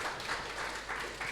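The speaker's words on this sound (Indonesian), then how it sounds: "Beri tepuk tangan yang meriah untuk ketua OSIM kita." A hall crowd gives a short burst of steady applause for the student council leader, with brief talk underneath.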